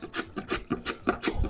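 A budget woodworking hand tool shaves curved wood in quick strokes, each a short rasping scrape, about seven in a steady back-and-forth rhythm, close up with no talking.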